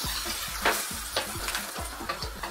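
Cheese and cream sauce is stirred in a hot pan over the heat, a steady close sizzle with rhythmic scraping strokes of the spoon repeating about every half second throughout.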